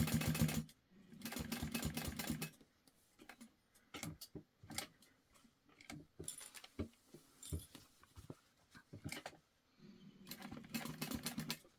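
A sewing machine stitches a towel topper at a 4.5 stitch length in short, close, rhythmic bursts, broken by quiet gaps and small handling clicks.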